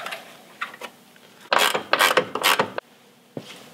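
Leaf spring bolts on a truck being snugged up with a ratchet wrench: rapid close clicking and metallic grinding in short bursts, loudest through the middle, with quieter scattered clicks before and after.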